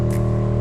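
A DD Audio 815F subwoofer driven at 20 Hz in free air during run-in gives a continuous low buzzing drone with rattly harmonics, loud and steady throughout the short stretch.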